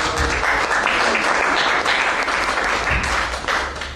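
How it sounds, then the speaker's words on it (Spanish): Audience applause at a film festival presentation event, a loud sustained burst of many hands clapping that keeps going and fades slightly at the end. "Un fuerte aplauso."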